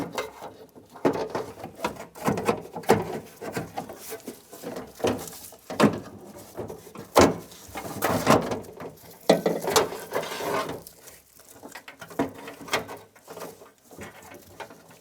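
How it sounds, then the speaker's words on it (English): Jeep Liberty window regulator and power window motor being worked out through a door slot, with irregular metallic clicks, ratcheting rattles and scraping bumps, close and uneven over a long stretch. "Now we want to go ahead and maneuver the regulator out through the slot along with the window motor."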